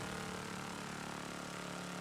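Engine sound from the Forza racing video game during a race between a Reliant Supervan and a BMW Isetta: a steady, loud, buzzing drone that holds evenly throughout, with no talking.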